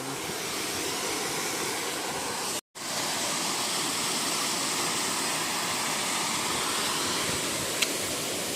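A steady, loud roar of falling water fills the clip, broadband and unbroken apart from a brief dropout near the start.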